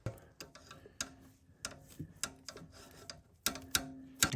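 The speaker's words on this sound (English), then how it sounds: "let's get that hose clamp in place." A hose clamp being fitted on a Subaru WRX coolant hose in an engine bay: sharp metallic clicks, ticks and scraping taps in uneven bursts, close and fairly quiet, with a few louder snaps near the end.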